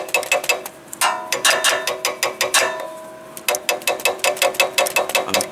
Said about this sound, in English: I have this kind of wrench, just to tap on the solenoid.